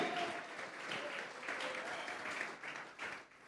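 A church congregation claps together in a steady wash of applause, moderately distant, with faint voices mixed in.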